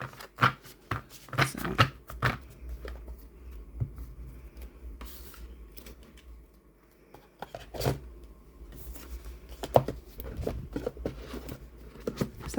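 Stiff tarot cards, a Disney Villains Tarot deck, riffled and shuffled by hand in a series of crisp papery bursts and slides, close and fairly quiet, with brief pauses between shuffles.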